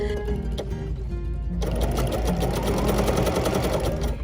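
Embroidery sewing machine stitching a simple fringe with one thread in the needle, a quiet whir that jumps into a fast, loud, even mechanical chatter partway through.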